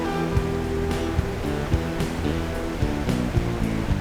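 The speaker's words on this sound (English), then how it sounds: "The water is moving very fast" Fast-flowing river wave in Norway being surfed, a steady loud rushing roar of churning water with low rumbling surges and occasional splashes throughout.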